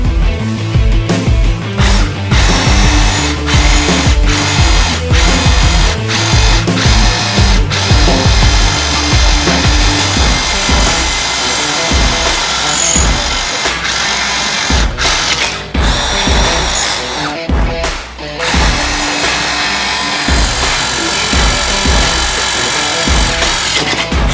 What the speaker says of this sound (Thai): เดี๋ยวเรามาลองเทสเจาะเหล็ก